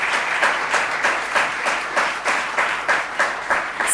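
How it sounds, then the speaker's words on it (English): A large audience claps in welcome for Shri Suresh Prabhu at an event on sustainability and the bamboo economy, a loud, close ovation with a pulsing rhythm of many hands in near-unison. "please join me in giving a big round of applause as we welcome Shri Suresh Prabhu sir"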